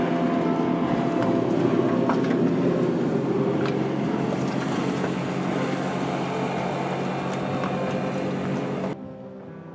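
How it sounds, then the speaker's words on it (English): A motor yacht comes into port on the Burnett River, its engine drone and rushing water noise steady and fairly loud, with wind buffeting the microphone, before cutting off abruptly near the end. "One very nice motor yacht coming into the port."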